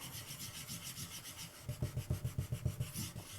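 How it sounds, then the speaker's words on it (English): A wooden spoon rubs back and forth over paper to burnish an oil transfer print, starting as soft, continuous scuffing and then becoming a quick, rhythmic series of close, quiet strokes. "I'm just going to use a wooden spoon here. I haven't tried that before. And we'll burnish."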